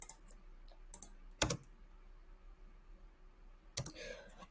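Sharp computer mouse clicks at a desk while working in Adobe After Effects, a few isolated crisp taps separated by near silence, close and fairly quiet.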